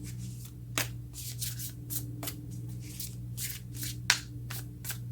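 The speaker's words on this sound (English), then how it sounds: "When I'm shuffling, just FYI, I shuffle until it feels right." Tarot cards being shuffled by hand: a series of quick riffling, papery bursts and soft rubs in uneven rhythm, close and clear, with no talking.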